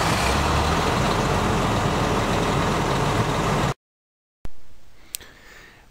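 A Ladder 54 fire truck's engine runs with a loud, steady diesel roar, then cuts to silence before restarting with a sharp burst that settles into a quieter, fading idle.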